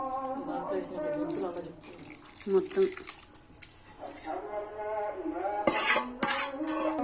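Raw mango pickle pieces stirred with cooled oil and chili powder in a metal bowl, giving steady scraping and clinking of utensil on metal, with a few louder clanks near the end, under ongoing talk.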